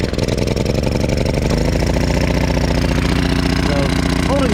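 An old gas generator holds at a steady idle with its choke fully on, a loud, continuous near engine drone with dense low rumbling harmonics and small wavering in pitch toward the end.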